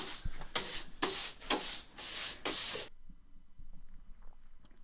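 Hand sanding primer on a carbon fiber car door skin in a steady back-and-forth rhythm, about six rasping strokes close by, then it stops, leaving faint quiet rustling.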